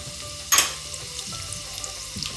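Four cloves of chopped garlic hit a hot pan for a kadhi pakora tadka with a sudden loud sizzling burst that quickly settles into a quieter, steady frying hiss, with a light scrape later and no one speaking.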